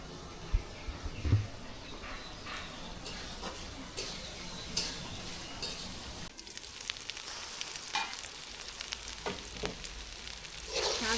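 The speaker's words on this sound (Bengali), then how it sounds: "বারবার একটু ঢাকনা খুলে নেড়ে চেড়ে দিতে হবে।" Leafy greens and beef fry in a covered pot with a steady crackling sizzle, broken by scattered clinks and scrapes as the mixture is stirred now and then. No one speaks.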